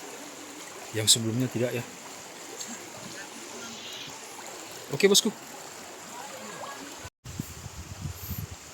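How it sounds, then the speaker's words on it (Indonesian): Floodwater from a rising river rushes steadily at a flood-hit hamlet, a constant broad roar heard throughout, with someone speaking briefly over it twice. "Semakin tidak bisa dikendalikan airnya ini. Wah, no. Ini sudah naik lagi nih di sini."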